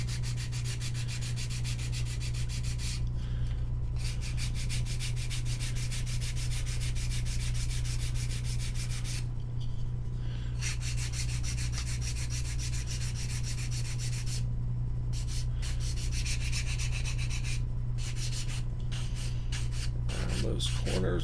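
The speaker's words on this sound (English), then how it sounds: "Sand this up like this." A 220-grit zebra sanding stick works over a scale-model mold box by hand: continuous close, raspy back-and-forth scrubbing in long bursts separated by brief pauses, over a steady low hum.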